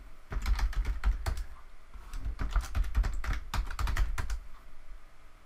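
Fingers type on a computer keyboard while logging in to Docker Hub on a server, producing close, rapid bursts of key clicks with brief pauses between runs.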